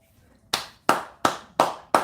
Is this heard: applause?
yes